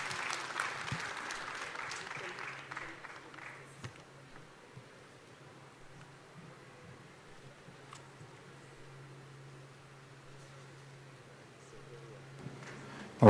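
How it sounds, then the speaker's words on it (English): Applause breaks out at a government MOU signing ceremony on tourism in Jamaica, a burst of clapping early on that fades into a quiet room with a low hum and a few faint sounds. "let's appreciate that moment with beautiful claps, marking the MOU signing of the two governments"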